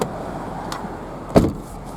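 The door of a Ford Mustang 5.0 GT shuts with a single solid thud, heard from inside the car over a steady background hum.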